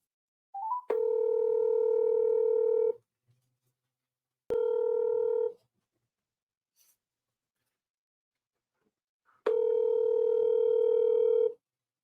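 A telephone call being placed, heard as three long ringback tones with gaps between them, clear and close with no talking.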